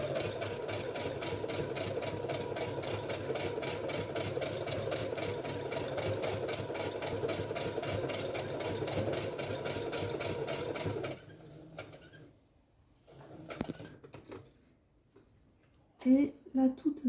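A sewing machine stitches along the edge of fabric wipes in a steady rapid close whirr for about eleven seconds, then stops, leaving brief clicks and handling noises.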